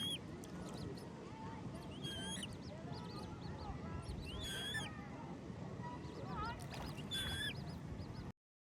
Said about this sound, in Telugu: ఆ బర్డ్ సౌండ్